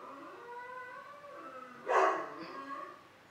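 A dog gives one short, loud bark or yelp, close by in a quiet indoor room, with a faint tonal whine before it and softer noises after.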